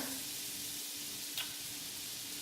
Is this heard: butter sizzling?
yes